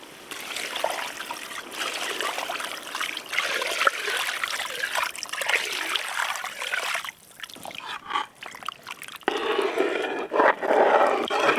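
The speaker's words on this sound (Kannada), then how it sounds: "ಮಟನ್ ಬೇಯಕ್ಕೆ ನೀರು ಹಾಕೊಳ್ಳೋಣ ಅಳತೆಯಾಗಿ." Water pours and splashes into a pot of half-cooked mutton for Hosakote dum biryani, a steady close trickle and gush with a brief pause and a renewed splashing pour near the end.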